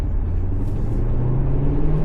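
BMW M550 (G30) sedan on a road test drive right after a DIY rear brake and rotor replacement: steady low engine and road rumble from inside the cabin, constant and fairly loud throughout with no voices.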